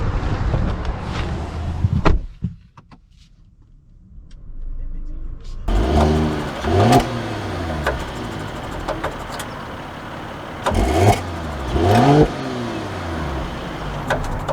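A 2022 Mercedes S500 base S-Class sedan on 21-inch wheels accelerates while driving: the engine note climbs repeatedly through gear changes after a brief quiet spell, with steady wind and road noise underneath.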